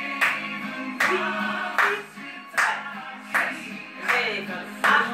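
Hands clap in a steady, even rhythm during a seated dance session, six or seven crisp, close claps spaced about a second apart over a soft background.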